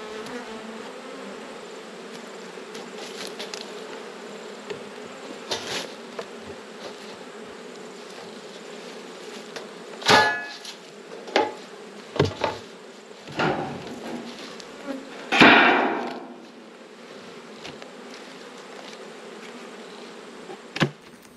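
Honey bees hum in a steady drone around an open hive during an Australian autumn inspection, with occasional knocks and clunks from the hive boxes being handled.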